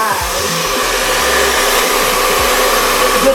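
A hair dryer fitted with a diffuser blows steadily and loudly at close range while fine, low-density curly hair is dried, a constant airy roar throughout.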